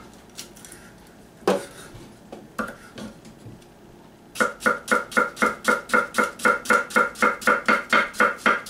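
A knife slices a shallot thinly on a cutting board: a few scattered cuts, then a quick, even run of crisp chopping taps close up.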